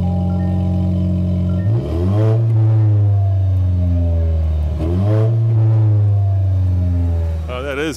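A 2024 Toyota Tacoma pickup truck engine with dual exhaust idles with a deep, throaty rumble, then revs up twice, the exhaust growling loudly close by.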